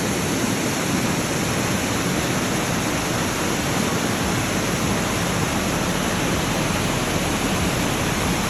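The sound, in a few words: waterfall on the Kheerganga trek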